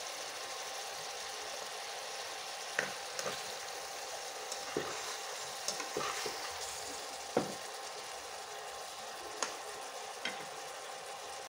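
Potatoes sautéed in a pan beside hilsa fish for a fish broth, giving a steady close sizzle of frying with scattered scrapes and clicks of stirring throughout, without talk.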